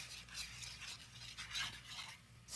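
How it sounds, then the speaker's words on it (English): Milk being whisked into a skillet on the stove gives a continuous scraping, swishing stir with a soft sizzle underneath, steady and close with no talking. "You want to put in maybe a cup, then whisk it in."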